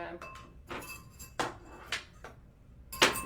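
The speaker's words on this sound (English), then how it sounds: "My whisk is on the floor" A metal whisk falls in a makeshift office kitchen, giving several sharp, separate metallic clinks and clatters spread over a few seconds, fairly quiet, with the loudest strike at the end.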